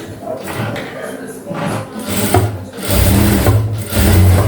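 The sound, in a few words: sewing machine stitching a lining seam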